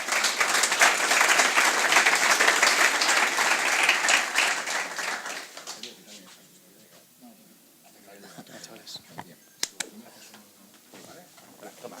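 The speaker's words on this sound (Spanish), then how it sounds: "un fuerte aplauso para ellos" Loud audience applause fills a talk on blockchain tokenization and artificial intelligence, dense and sustained for about six seconds before fading to scattered claps and murmuring.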